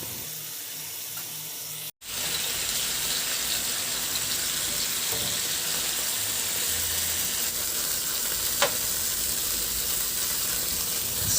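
Chicken pieces fry in a pan, giving a continuous, even hiss of hot oil after a brief cut at the start.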